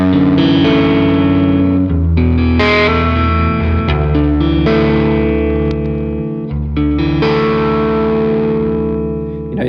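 An electric guitar through a fuzz pedal, with a gritty, biasy distorted layer sitting over a cleaner signal, plays sustained chords and notes loudly and continuously with no talking.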